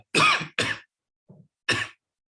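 Three sharp, harsh coughs close by, with a faint softer throat sound between them, then silence.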